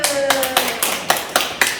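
Several quick bursts of hand clapping, a handful of people applauding in short uneven rounds during a children's Bible class lesson demonstration.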